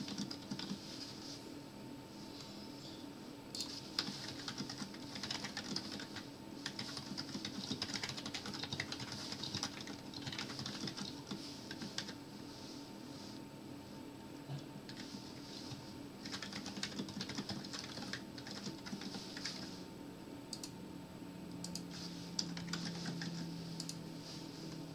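Faint, steady clatter of computer keyboard keys as code is typed for a Zybo Z7-20 Zynq SoC board, irregular bursts of clicks continuing for about twenty-five seconds with no talking.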